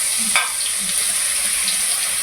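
Spiced masala hits hot peanut oil in a pan, giving a steady bright sizzle with a few soft stirring clicks, close and continuous for a couple of seconds.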